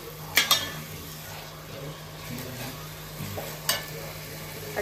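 Potato with green masala frying for prawn rice, a soft steady sizzle punctuated by a few sharp clinks of a spoon against the pan, close by with no talking.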